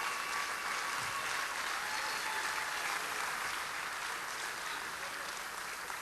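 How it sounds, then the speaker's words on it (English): Round of applause for Sue at a JCA 2020 alumni banquet, steady sustained clapping from the audience lasting the whole stretch, fairly even and moderately loud. "let's give Sue a round of applause here"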